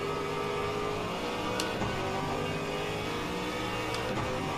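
Ford Mustang GT3 race car in Le Mans Ultimate at Bahrain Outer, engine droning steadily at high revs as it accelerates, with brief gear-shift dips and a rising whine, loud and continuous.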